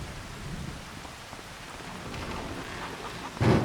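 Rain pours down in the Farming Simulator 25 farm game, a dense constant hiss with a rumble of thunder swelling near the end, no talking.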